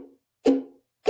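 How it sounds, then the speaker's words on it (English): Muted guitar strings, with fingers releasing pressure and scraping across them: short, dull, percussive plucks and scrapes, two or three brief muffled hits separated by silence, close and alone. "That plastic sound of my fingers running across the strings."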